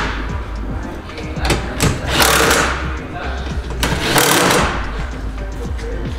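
A power tool snugs up an exhaust hanger bolt on a Q50 or Q60 exhaust system, loud whirring bursts under and between someone talking nearby.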